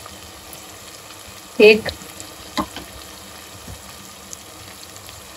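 Yogurt is stirred into sizzling gravy in a pot, giving a steady low frying hiss with a brief louder splash and scrape of stirring as a voice talks.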